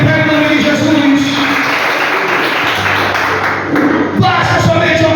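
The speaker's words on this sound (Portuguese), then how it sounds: "Aplauda Jesus." Congregation clapping during a church service, a dense continuous wash of applause that fills the whole stretch, steady and loud with a brief dip near the end.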